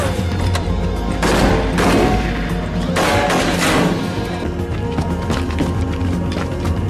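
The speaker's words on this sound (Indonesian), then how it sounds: "tiba-tiba Stockwell mendatangi mereka dan langsung menembaki John dan juga Sandra" A movie shootout fills the scene with loud bursts of gunfire and crashing impacts over a dense, constant bed of dramatic sound, with two heavier volleys standing out early and later shots rattling more faintly.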